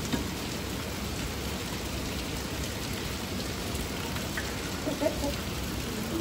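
Steady rain falls continuously on a surface as a dense, even hiss of drops with no break, fairly close and alone, with no talk over it.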